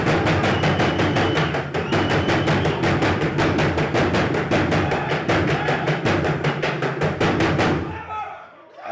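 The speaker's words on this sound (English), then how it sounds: "The team from Burundi, let's clap for them." Audience clapping for a team from Burundi at a climate action event, a dense, steady burst of loud applause that fills the room, then fades out near the end.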